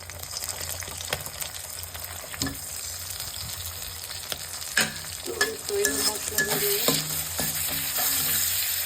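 Steady close sizzling of fish and egg frying in hot oil, with occasional stirring clatter and a louder burst of spattering partway through.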